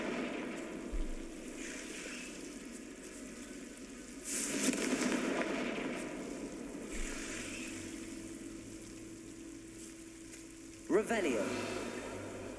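Confringo spell explosions in the Hogwarts Legacy video game: a few sharp fiery blasts, one midway and another near the end, over a low ambient wash with some voice present.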